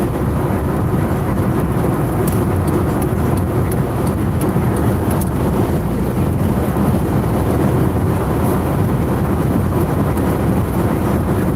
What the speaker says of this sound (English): it's one of those days where it's so windy